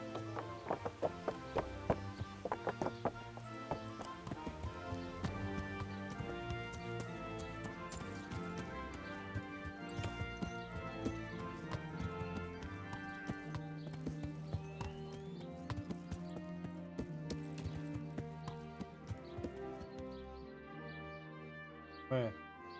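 A horse's hooves clip-clop steadily during riding in the video game Kingdom Come: Deliverance, running at an even trotting rhythm under continuous orchestral game music.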